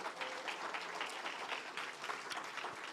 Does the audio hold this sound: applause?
yes